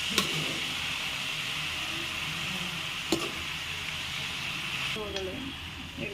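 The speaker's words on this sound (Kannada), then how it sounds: "ಅದಾದಮೇಲೆ ಚೆನ್ನಾಗಿ ಸೊಪ್ಪನ್ನ ಹುರ್ಕೋಬೇಕು ಉರಿಲೆ" Leafy greens sizzle and fry steadily in a hot pan over a flame, with a few sharp clinks of a utensil against the pan and a voice talking over the continuous crackle.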